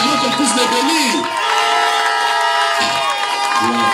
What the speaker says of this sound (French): Je veux entendre les cris dans la salle.